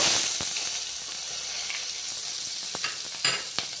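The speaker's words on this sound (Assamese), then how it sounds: "তাৰপিছত পিঁয়াজখিনি দি দিব" Sliced onion sizzles in a pan of hot oil with whole cumin, a steady frying hiss with a few sharp pops and clicks of stirring near the end.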